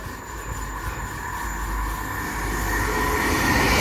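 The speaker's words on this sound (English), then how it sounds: "Passing through now is a Transport for Wales service off to Chester from Manchester Airport" Transport for Wales passenger train heading through Patricroft station from Manchester Airport toward Chester, a steady mid-distance rumble and whine that slowly builds louder as it approaches.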